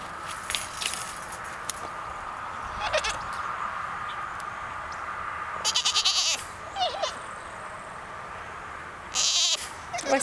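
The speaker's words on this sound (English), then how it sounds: "You being a bad goat, always." Goats on a farm give several short bleats, scattered across the span, close and moderately loud over steady background noise and occasional footsteps.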